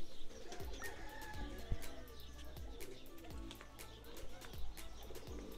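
Pigeons kept by a Pakistani pigeon fancier coo over a busy outdoor backdrop, with soft repeated low coos mixed among chirps, clatter and brief voices.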